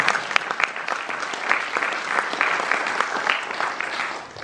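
An audience at a chamber of commerce celebration gives a full round of applause, dense and even clapping from many hands, moderately close and continuing steadily before tapering off at the end.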